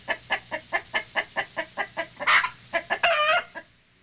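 Backyard chickens cluck in a quick steady series of short calls close by, followed by a louder squawk and a brief crow-like call before fading out.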